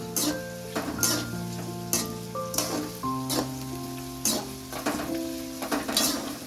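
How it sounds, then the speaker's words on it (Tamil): Onions sautéing in a pan for vegetable kurma: a loud, close sizzle with repeated spatula scrapes and stirs at an uneven pace, while steady tones sound faintly in the background. "இப்போ நமக்கு வெங்காயம் ஓரளவுக்கு லைட்டாக வதங்கியிருக்கு"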